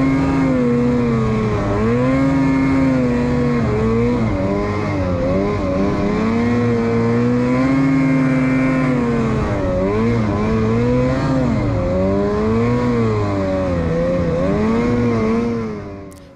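A snowmobile engine on a trail, held at a steady, loud drone with pitch rising and falling as the throttle changes, close and continuous before fading out at the end.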